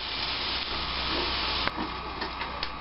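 Bacon-style fat rendering and frying with butter in a pot for clam chowder, a dense, steady sizzle and hiss with a sharp clink partway through and a few softer stirring sounds after.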